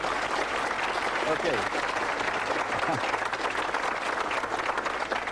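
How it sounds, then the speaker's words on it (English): Crowd applause after a magic trick in a card routine, a continuous broad wash of clapping throughout with a few words spoken over it. "That deserves a round of applause, I think."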